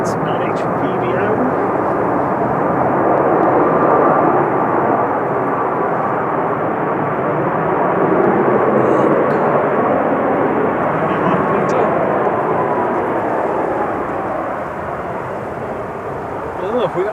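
A passenger jet arriving at Manchester Airport from Malaga roars loudly and steadily in windy conditions, a broad rushing engine noise that fades slightly toward the end.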